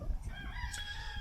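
A rooster crows briefly among free-range farm chickens, the call close and fairly clear over low background rumble.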